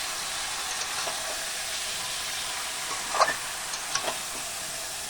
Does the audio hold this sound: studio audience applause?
no